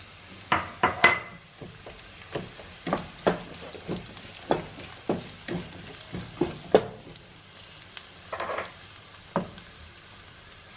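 Onions go into a hot pan for a spicy chilli garlic mushroom dish, setting off a steady sizzle broken by repeated sharp clinks and scrapes of a utensil against the pan, close and fairly loud, with no talking.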